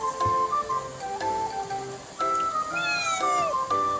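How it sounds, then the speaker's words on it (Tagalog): Several high-pitched cat meows and yowls from fighting cats sound close by, rising and falling in short bursts, with rhythmic ticking and clatter in the background. "Nakapirate tayo nitong ingay ng pusa, no?"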